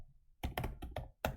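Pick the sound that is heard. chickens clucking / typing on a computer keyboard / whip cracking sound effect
typing on a computer keyboard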